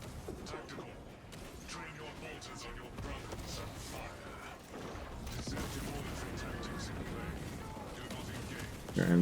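Flamer fire caster roaring continuously as it burns down corrupted guardsmen in Space Marine 2, a dense wash of combat noise with crackling bursts and clanking mechanisms throughout, ending on a louder hit.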